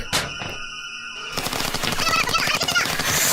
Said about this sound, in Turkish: Bak bak bak atış ediyorlar arkadaşlar Thomas'a.